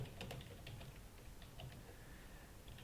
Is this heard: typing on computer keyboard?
yes